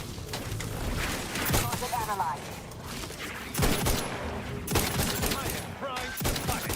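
Gunfire in a first-person shooter video game fires in repeated rapid bursts with sharp cracks, loud and close, separated by short pauses.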